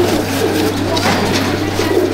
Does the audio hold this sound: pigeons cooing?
yes